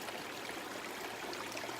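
Ward Creek flowing along the Tahoe Rim Trail near Tahoe City, a steady broadband rush of running water that stays even and continuous throughout.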